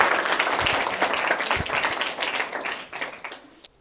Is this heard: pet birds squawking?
no